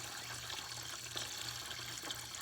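Water pours in a steady stream into a bucket for chickens, a continuous close splashing rush at moderate loudness with no talk.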